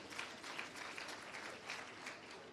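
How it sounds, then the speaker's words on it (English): A crowd applauds at the launch of a skills development centre, with dense, even clapping that holds steady for the whole stretch, fairly distant and quiet. "Let's give them a hand of applause."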